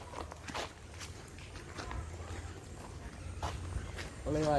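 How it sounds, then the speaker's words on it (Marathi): Footsteps crunch at a steady walking pace, close by, with some quiet background noise and a brief voice at the end. "गाईज आम्ही आता चालत आहोत"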